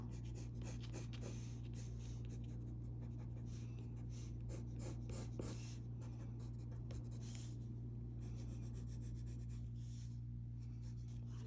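Colored pencil drawing on denim fabric, a steady dry scratching and rubbing of the pencil tip in repeated short strokes, close and fairly quiet over a constant low hum.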